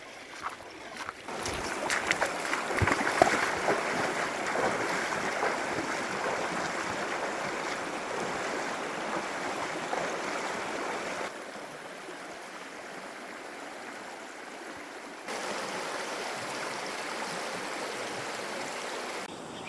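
A mountain creek flows steadily during a trout-fishing outing after cutthroats, a constant close rushing wash of water with a few faint knocks early on and the level shifting slightly midway.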